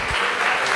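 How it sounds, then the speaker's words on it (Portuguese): Brief applause from a church congregation, a dense, even roar of many hands clapping at once, steady and fairly loud for under a second with no voices standing out. "Quem pode aplaudir ao Senhor?"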